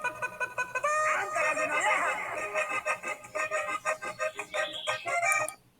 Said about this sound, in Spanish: acá canta el gallo